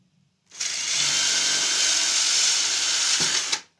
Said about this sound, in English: We've got to drill these first.